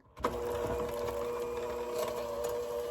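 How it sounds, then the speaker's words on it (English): An electric hand mixer beats salted butter and sugar in a bowl, giving a steady, close motor whine with a scraping texture that runs continuously after switching on. "Using an electric hand mixer, start mixing."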